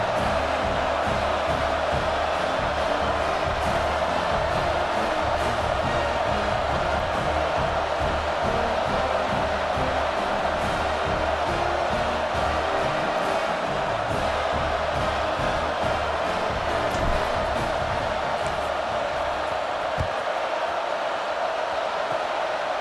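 Constant stadium crowd murmur and roar in EA Sports College Football 26, a steady dense wash of noise with faint scattered shouts, continuing evenly throughout without talk.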